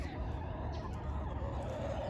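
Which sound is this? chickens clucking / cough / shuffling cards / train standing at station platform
chickens clucking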